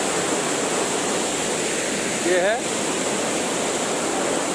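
Raniduduma waterfall in Koraput gives a steady, loud broadband roar of rushing water that runs unbroken throughout, with a brief spoken voice heard over it near the middle.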